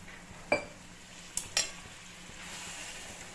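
Water is added to besan sabzi cooking in a hot pan, giving a sharp sizzle and a couple of quick stirring scrapes, then a low, steady bubbling simmer; no one talks.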